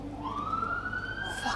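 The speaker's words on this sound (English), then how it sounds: "Fucking siren." An emergency siren passing outside, a single rising wail sweeping upward over a low traffic rumble, brief and moderately close.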